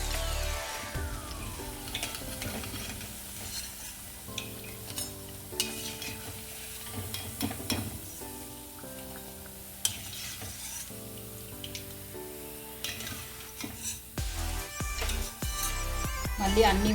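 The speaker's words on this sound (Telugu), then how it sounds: "ఒకవైపు ఫ్రై అయినాక ఇంకో వైపు వేసేసుకొని కాల్చుకోండి." Vadas fry and sizzle in hot oil in a pan, a steady crackling bed with occasional stirring and utensil clatter, while a person talks over it throughout.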